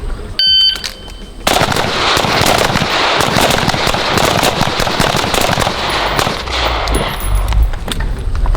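Rapid, dense cracks and pops from AR-15 rifle fire with a Surefire RC3 suppressor on a training range run on continuously for several seconds after a short pause, loud and close, with some clutter from other shooters.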